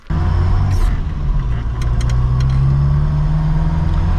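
Ford Escort MK1 with a 1.1 engine running steadily close by, a loud even drone that rises slightly in pitch toward the end, with a few light clicks over it and no talk.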